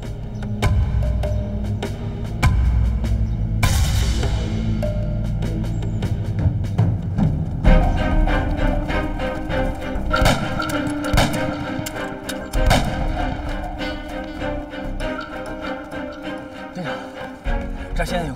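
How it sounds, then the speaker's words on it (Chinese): Gunfire from a war film about a sniper fighting the Japanese rings out in repeated sharp bursts and volleys, loud and close, over a dense soundtrack mix. "枪声越来越近。"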